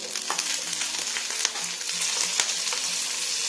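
Urad dal and a green chilli sizzle in a little oil for a rava masala dosa tempering. A close, steady frying hiss is dotted with small crackling pops. No speech.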